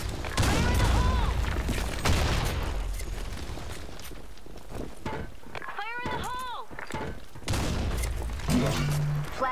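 Grenade blasts in the shooter game Blackshot land as a few broad, rumbling bursts spread across a competitive match, mixed with shouted voice callouts and steady battle noise.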